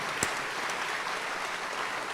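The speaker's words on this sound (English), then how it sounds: "please join me in a round of warm applause for our JROTC" Steady applause from a high school commencement audience honoring the JROTC, an even wash of clapping at moderate distance that holds for the whole stretch with one sharper clap early on.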